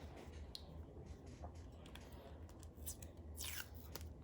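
Tape is pulled off a roll while a fishing rod guide is being wrapped: soft rubbing and small ticks, then one quick rasping peel near the end, faint and close over steady background noise.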